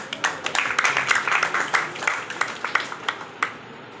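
Applause at a Christian wedding ceremony, a steady patter of many hands clapping through the room for several seconds, moderately loud with no one speaking over it.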